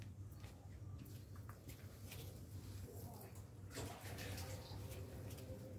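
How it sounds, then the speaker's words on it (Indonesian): Water splashes and trickles as it is poured over grey Malang sand and soil in a large pot holding a four-branched coconut bonsai, a steady close wash of sound throughout. "Ini kita coba siram dengan menggunakan air ya."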